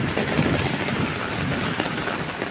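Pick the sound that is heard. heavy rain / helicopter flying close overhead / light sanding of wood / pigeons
heavy rain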